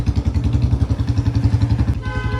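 A BS6 Bullet motorcycle engine runs after repair with a close, steady, low-pitched thumping beat at idle. No one speaks over it.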